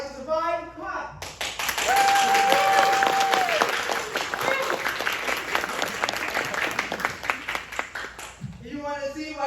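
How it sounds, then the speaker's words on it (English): An audience claps on cue during an immunology-themed stage play, dense applause rising abruptly and holding steady with some whoops, framed by a speaking voice before and after. "So now, if you want the body to survive, clap."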